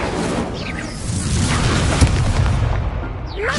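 The Incendio fire spell in the Hogwarts Legacy video game goes off as a loud whooshing burst of fire, mixed with booming combat effects and a continuous roar of game sound.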